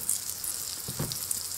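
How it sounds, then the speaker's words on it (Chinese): Small yeast-dough buns sizzle in melted butter on a preheated electric griddle: a soft, steady crackling fry with a few brief pops and taps, fairly faint and with no voices. "电饼铛提前预热，放一块黄油，先把黄油融化， 放入醒发好的小馒头生坯"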